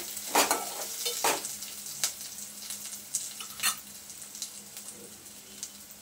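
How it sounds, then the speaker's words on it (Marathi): Crushed garlic, ginger and curry leaves sautéing in a pan for soybean bhurji, a quiet sizzle with intermittent spatula scrapes and taps, loudest at the start and fading slightly. "लसूण आणि आलं घेतलं ठेचून, ते घालायचं। कढीपत्ता त्याच्यासोबतच छान 1-2 मिनिटासाठी परतून घ्यायचं व्यवस्थित।"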